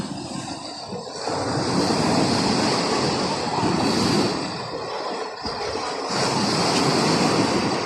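Strong ocean waves crash and surge in a loud, continuous roar close by, with wind buffeting the microphone; no one speaks.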